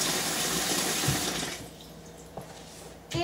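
Cool water runs from a kitchen tap in a loud, steady rush that cuts off partway, followed by faint drips and small clunks nearby.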